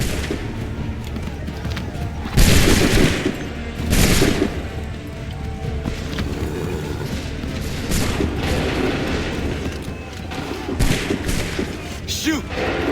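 Musket volleys in the video game Assassin's Creed III, big booming bursts of massed fire at intervals over a constant battle din, with shouted voices in between.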